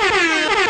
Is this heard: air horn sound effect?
yes